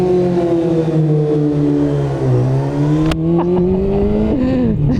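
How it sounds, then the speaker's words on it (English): A motorcycle engine revs loudly and close, its droning tone dipping and rising as the throttle eases off and then opens again, ending in a brief sharp blip, with no talking. "Oh mate, this bike sounds so good."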